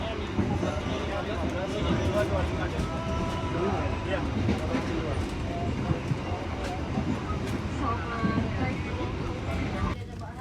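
Steady rumble of a moving passenger train (the Rajabasa service between Palembang and Lampung, Indonesia) with rhythmic clattering of wheels, while people talk over the noise inside the carriage.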